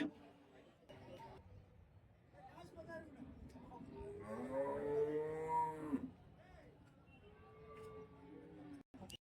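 Cattle moo loudly nearby at a cow market in Karimangalam, Dharmapuri district, a long drawn-out low call in the middle, amid faint background voices and farm noise.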